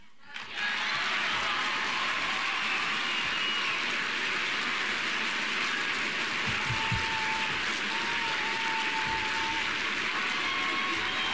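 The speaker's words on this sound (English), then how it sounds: "those of you watching at home may wonder why this is being applauded" Sustained applause from a CPAC audience during a Rush Limbaugh conservative speech, a dense steady clatter of many hands that swells in almost at once and holds at an even level without letting up.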